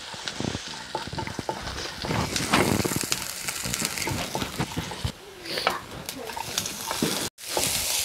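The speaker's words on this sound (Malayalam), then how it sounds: "അതിലേക്ക് നമ്മൾ പച്ചമുളക് ചെറുതായി അരിഞ്ഞു വെച്ച 2 പച്ചമുളക്, ഇഞ്ചി എന്നിവ നമ്മളതിലേക്കായിട്ട് ചേർത്ത് നല്ലപോലെ ഒന്ന് മൂപ്പിച്ചെടുക്കുകയാണ്" Chopped green chili and ginger sizzle and crackle in hot oil in a pan, with stirring scrapes and busy bursts of frying throughout, then a brief cutoff near the end.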